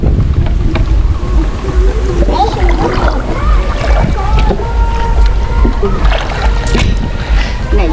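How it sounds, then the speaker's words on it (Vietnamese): Strong wind buffets a small boat on a narrow canal in open fields, a constant loud rushing roar with splashing water and voices talking underneath. "Này gió dữ rồi."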